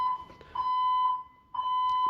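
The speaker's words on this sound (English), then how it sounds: "this is the fifth fire alarm in a 24-hour period" Fire alarm sounding in a building at night, a loud steady tone in repeated long blasts with a brief gap, alone and close.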